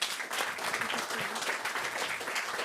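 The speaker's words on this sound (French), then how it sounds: "Merci encore Anne Canto, on vous applaudit à nouveau." Audience clapping after a talk at a conference, a moderate, continuous patter of hands that holds evenly from start to finish with no voices over it.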